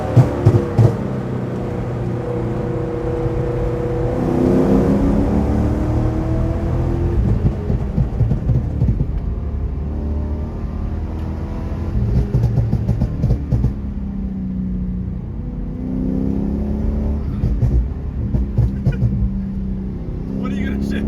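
A tuned C6 Corvette V8 pulling hard through the gears on a canyon road, a loud engine roar rising in pitch across several upshifts, heard from inside the cabin with an excited voice over it.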